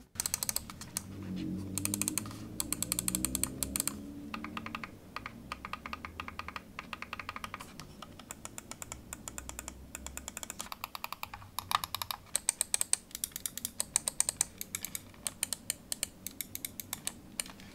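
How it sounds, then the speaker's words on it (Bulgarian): Button clicks from a HyperX Pulsefire Haste gaming mouse: many sharp, close clicks in quick, irregular bursts, heard alone with no talking. "нека да направим един малко звуков тест, как звучат бутоните на HyperX Pulse Firehaste 1 там и тук 2"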